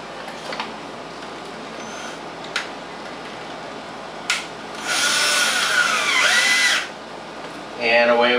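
Power drill driving four screws into an ozone generator housing, short separate buzzing bursts followed by a longer whirring run, each winding up and down, close and loud over a quiet background.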